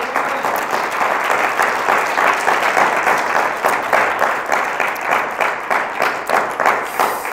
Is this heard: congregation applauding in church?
yes